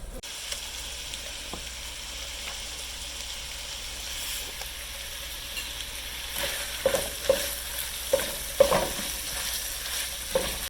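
Vegetables for pork chorizo tacos cook down in a skillet: a soft, steady sizzle runs low throughout, with sharper scraping and stirring clicks growing louder in the second half.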